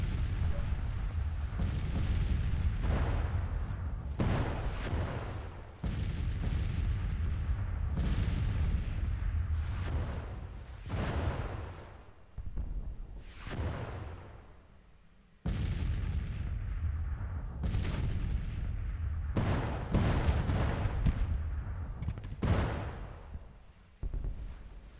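Repeated volleys of musket fire from skirmishers in a Civil War strategy game crack out in bursts, some sharp and close, others rolling into booming echoes, filling the stretch with no voices.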